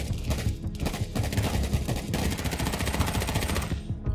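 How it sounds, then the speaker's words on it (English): Rapid automatic AK rifle fire in the battle royale game H1Z1, a dense continuous burst of gunshots lasting several seconds, loud and close with no speech over it. "I'm just shooting like crazy."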